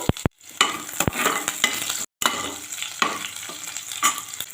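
Crushed garlic sizzles steadily in hot oil in a pan, cooked for a dried fish dish. Sharp clicks and scrapes of stirring break through the frying noise, with two brief silent cuts.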